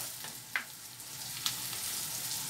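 Fennel seeds fry in hot oil, giving a steady, fairly quiet sizzle throughout, with two brief crackling pops standing out. No one speaks.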